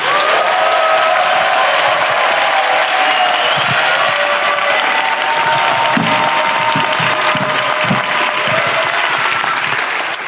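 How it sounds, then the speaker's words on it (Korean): An audience gives loud, sustained applause welcoming a professor to the front at a church lecture, the clapping dense and even from start to finish with a faint murmur underneath. "나오실 때 큰 박수 부탁드립니다."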